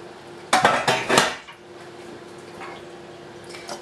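A knife works through a loaf of freshly baked low carb bread in a pan. A few sharp clattering scrapes come close together, followed by faint quieter handling sounds.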